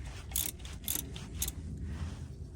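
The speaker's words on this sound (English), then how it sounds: "So let's go ahead and loosen the T40." Ratchet wrench loosening a T40 Torx bolt on a Nissan Micra K12 rear brake, three quick bright clicking bursts at steady half-second intervals over a low rumbling background, close but fairly quiet.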